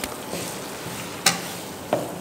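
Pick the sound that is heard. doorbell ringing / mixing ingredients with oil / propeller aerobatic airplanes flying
mixing ingredients with oil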